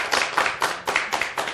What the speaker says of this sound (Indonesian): dengan tepuk tangan yang meriah